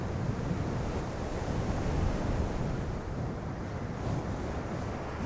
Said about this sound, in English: I can hear the wind noise in my ears.